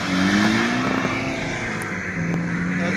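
Off-road race car at a rally in Ünye, its engine roaring at full throttle with a steady rising drone, loud and close, no voices.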